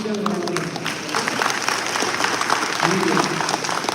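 An audience at a spiritual gathering claps in sustained applause, a dense crackle of many hands lasting several seconds, while a voice talks over it.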